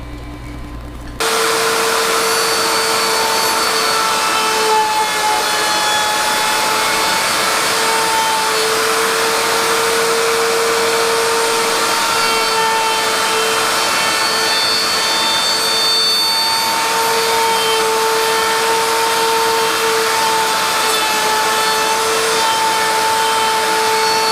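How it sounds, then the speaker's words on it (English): A router fitted with a 1/8 inch roundover bit rounds the corners of small wooden reloading trays, a loud steady high-pitched whine that runs continuously and close after starting up, with no talking. "I used a, I believe it was a 1/8 inch rounding, and I rounded all the corners"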